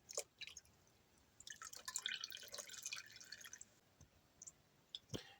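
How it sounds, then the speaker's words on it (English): Water drips and trickles from food being shaken in a kitchen strainer, quiet scattered patters and splashes in bursts, with a couple of sharp clicks near the end. "shake it in the strainer, get some of that water out"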